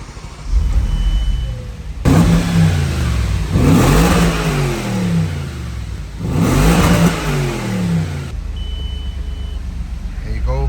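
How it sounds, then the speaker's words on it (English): An Audi RS4 V8 engine cranks and catches, then revs up twice in loud rising roars before settling back to a steady idle without misfiring. "the V8 is alive and it's not misfiring, it's running perfectly fine"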